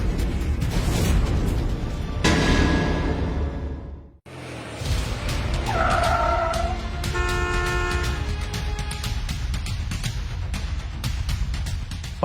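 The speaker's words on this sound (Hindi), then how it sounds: "लगता है आपकी कार आ गई है।" A car arrives outside a house in a drama scene. Loud whooshing motion noise stops in a sudden short hush, then several honks of a car horn sound over a busy, rhythmic background.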